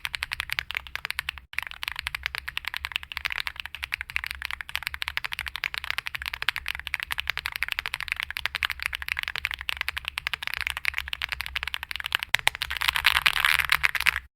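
Typing on a tactile-switch mechanical keyboard, a rapid, dense run of close clicky keystrokes that continues steadily throughout and grows a little louder near the end.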